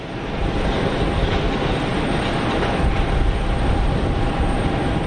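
Air Dolomiti airliner at Geneva Airport, a loud, broad jet rumble that rises in the first half second and then holds steady and dense, with a thin high whine above it and no voices.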